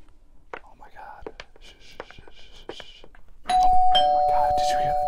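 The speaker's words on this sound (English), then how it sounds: "They just hit the doorbell." A doorbell rings loudly with a sustained electronic chime, cutting in after a stretch of hushed whispering from people hidden inside a box.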